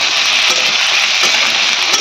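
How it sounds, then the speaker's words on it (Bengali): Pointed gourd and potato fry in oil with a loud, close, continuous hissing sizzle that holds steady throughout. "যে পটল আর আলুটা ভেজে নিচ্ছি"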